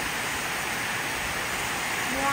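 Heavy rain pours down at an equestrian arena, a dense, steady hiss of downpour filling the whole clip at moderate loudness.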